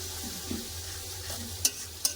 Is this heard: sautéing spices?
yes